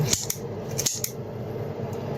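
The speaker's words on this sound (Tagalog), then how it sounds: "Pero kaya rin ang gunting ko to." Scissors make several quick, sharp snips at close range, with a few light metallic clicks, while food is prepared for a warm herbal soup in a home kitchen.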